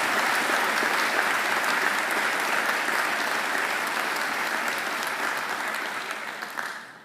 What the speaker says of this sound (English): I think he deserves another great round of applause.